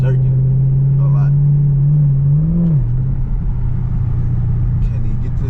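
Chevrolet Camaro SS engine drones steadily from inside the cabin while driving, its pitch wavering and dipping as the car jerks, with a person talking over it throughout.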